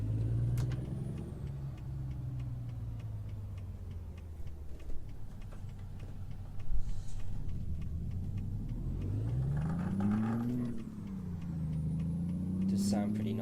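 A Freightliner Classic XL truck engine in American Truck Simulator drones loudly and low, its pitch sweeping up and down through gear changes and acceleration, with someone talking over it.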